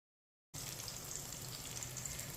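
Finely chopped onion frying in about half a cup of hot oil, a steady, dense sizzle that starts abruptly and holds evenly, close and alone with no talk.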